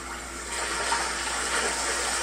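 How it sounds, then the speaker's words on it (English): River water rushes steadily in the Metal Gear Solid 3 boss fight against The Sorrow, a continuous loud wash of flowing water with no talk over it. "here we are in some sort of flaming river"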